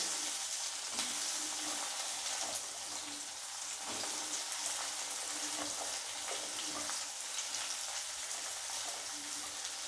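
Onion pieces dropped into hot oil with bay leaf for a Bengali desi chicken curry, sizzling and frying in a loud, steady hiss that runs unbroken throughout with scattered crackles and pops.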